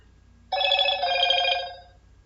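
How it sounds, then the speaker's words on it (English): A phone rings abruptly in a quiet room with a steady, bright trilling bell tone that lasts about a second and a half before cutting off. "Sorry, that's my phone."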